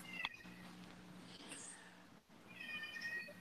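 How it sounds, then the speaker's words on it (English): A pet cat meows indoors, two drawn-out calls at the start and near the end, faint and somewhat distant over a quiet room. "You hear my cat in the background?"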